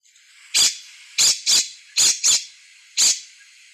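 Scrub jay calling with six loud, harsh squawks in an irregular sequence, clear and close with nothing else heard.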